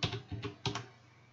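Keys clacking on a computer keyboard while entering text in Blender software, a short burst of roughly four close, crisp taps in uneven rhythm, with no voice over them.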